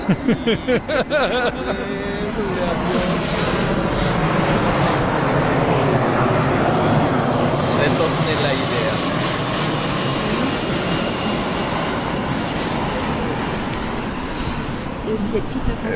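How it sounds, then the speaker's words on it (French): A fixed-wing airplane passing overhead during an outdoor seminar, a steady, loud engine roar that fills the whole stretch, with a voice briefly audible at the start. "On va attendre que l'avion passe."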